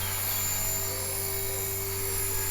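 A freshly overhauled HK-450 RC model helicopter flies with a steady high-pitched rotor and motor whine, loud and constant throughout with no voices.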